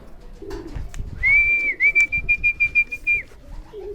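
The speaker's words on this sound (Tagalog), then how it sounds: "Ayan, yung isang kalapate natin tumambay." Racing pigeons at a loft coo in low, soft bursts near the start and end, while a sustained whistling tone and a series of quick pulses sound nearby in between.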